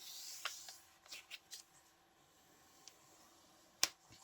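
Scissors snip paper for a collage, a few faint, sparse, sharp clicks spread over a quiet room background.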